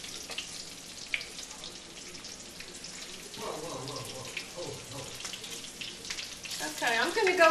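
Batter fritters for chicken fried steak sizzle in hot oil with a steady hiss that grows louder and busier toward the end, faint talk in the background.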